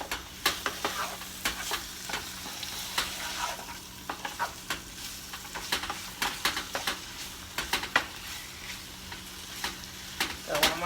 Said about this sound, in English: So I want my meat to cook and brown pretty good.